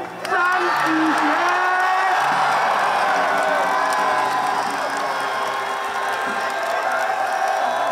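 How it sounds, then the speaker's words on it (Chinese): A stadium crowd cheers, whoops and applauds for baseball player Chan Tzu-hsien, a loud sustained roar with shouts on top and an announcer's voice over the opening seconds. "掌声欢迎下面张子贤"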